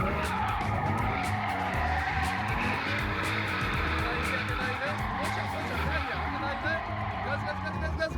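Sustained tire screech from a car drifting in a drift racing game, loud and continuous with revving engine throughout, while people talk over it.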